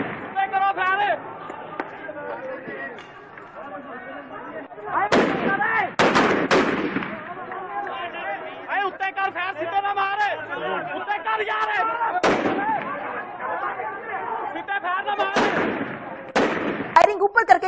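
Gunfire cracks out in sharp bursts, several loud shots at about 5 to 7 seconds and more near 12 and 16 to 17 seconds, over steady shouting and chatter from a crowd.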